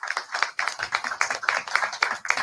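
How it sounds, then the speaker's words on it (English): Audience applause at a Baltimore Pan-African community gathering: bursts of clapping rising and falling in short waves, fairly close and moderately loud, with no talk over it. "Give him a big round of applause."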